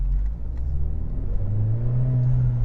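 A Hyundai Genesis Coupe 2.0T sports car's turbocharged four-cylinder engine drones low and steady as the throttle rises, its pitch climbing gradually in a continuous rumbling whir with no voices over it.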